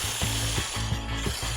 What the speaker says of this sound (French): Donc maintenant, je monte la chantilly.